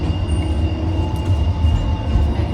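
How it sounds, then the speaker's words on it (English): A tram arrives with a loud, steady rumble of rolling wheels on rails and a faint metallic whine. No one speaks. "Our tram!"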